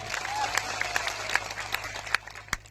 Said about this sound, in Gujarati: તમામ પોલીસ અધિકારીઓ માટે પણ જોરદાર તાળીઓ પાડી